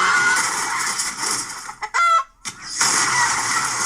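Chickens cluck and a rooster crows in a movie scene, the calls broken by a brief sharp burst and a short silence before the clucking resumes.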